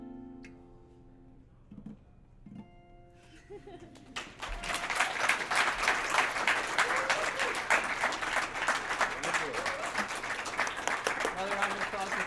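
After a quiet, fading musical ending at a Celtic folk concert in a college venue, the audience breaks into loud, sustained applause with many hands clapping densely, and a voice speaks over it.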